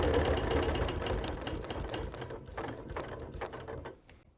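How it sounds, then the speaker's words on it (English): A sewing machine stitches quilt pieces along a seam, giving a continuous fast mechanical whir and clatter that runs steady and close before it eases off near the end. No one speaks. "So I'm just going to stitch."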